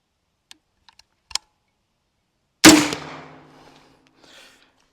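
An X-Products Can Cannon launcher fires a golf ball with a single sharp, loud blast that rings and decays over about a second, preceded by a few faint clicks of handling.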